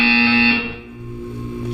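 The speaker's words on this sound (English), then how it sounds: "When you hear the buzzer, look down at the floor." A buzzer tone in the video game Portal 2 sounds loud and steady for about half a second, then drops to a lower sustained hum beneath a faint electronic drone, with no talking.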